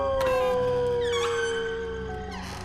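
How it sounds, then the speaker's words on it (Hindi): A dog howls in one long wavering cry that slides slowly downward, with a second higher voice rising and falling over it, loud and close, and no talk. "अरे लगता है ये कुत्ता अम्मा की नींद और मेरी योजना में विघ्न उत्पन्न करेगा।"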